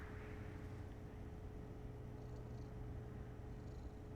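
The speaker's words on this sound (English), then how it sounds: "I did move the microphone closer to my cat so that she can meow for everybody" A domestic cat purrs steadily close to the microphone, a soft continuous low rumble with no clear meows, heard alone without talk.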